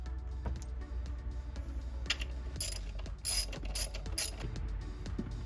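A ratchet turns nuts down on washers on an intake manifold of a 2008 Hyundai, giving quick, close clicking runs with a few louder metallic bursts in the middle, no talking.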